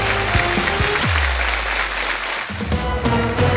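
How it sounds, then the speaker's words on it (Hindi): A studio audience at a televised game show applauds in a sustained wash of clapping, with tonal background sounds mixed in and no clear speech. "जोरदार तालियां."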